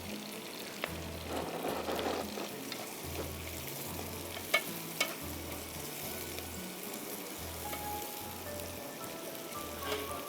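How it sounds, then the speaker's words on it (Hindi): Spices and tomatoes frying for a biryani gravy in a pan, giving a steady close sizzle and crackle with a few sharper pops and occasional stirring scrapes, and no talk. "इसको हम थोड़ा सा भूनेंगे और साथ में हम इसमें टमाटर डाल देंगे। टमाटर के साथ थोड़ा भूनेंगे ग्रेवी उसकी।"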